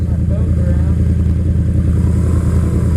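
A BMW R1100RT police-style sport touring motorcycle is ridden with a steady, loud engine rumble and pulsing boxer-twin throb, continuous and close, with wind noise.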